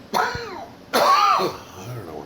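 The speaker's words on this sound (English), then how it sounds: "I have to cough." A podcast host coughs and clears his throat in two harsh, close bursts, the second longer and louder. A softer voiced sound trails off after them.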